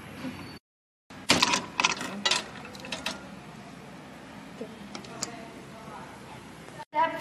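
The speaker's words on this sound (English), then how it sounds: "To remove the fan from the heat sink, remove the screws securing it in place." Screws are backed out of a CPU cooler fan mounted on a finned metal heat sink, giving a cluster of small, close metallic clicks and ticks, then a quieter stretch with a few scattered light taps.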